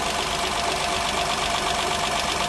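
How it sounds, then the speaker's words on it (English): A Honda engine idles near the listener, its fuel injectors ticking steadily, dense, even and loud, after cylinder head work on an engine that had misfired on every cylinder of one bank. "that's mostly injectors that you're hearing"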